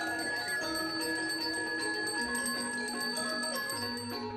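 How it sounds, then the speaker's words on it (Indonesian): A Balinese priest's genta hand bell rings at a Pegat Sot ceremony at Pura Sakti, Br Lebah, Bali, steady and shimmering throughout with sustained metallic tones over a low droning hum. "Vibrasi suara genta dan puja mantram dari para Sulinggih memberikan aura kesucian ke segala penjuru arah mata angin"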